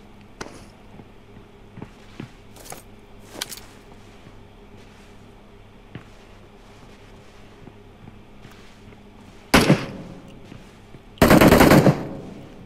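Gunfire in the PUBG Mobile game: scattered single shots crack sharply at first, then two loud, sustained bursts of rapid fire close by near the end.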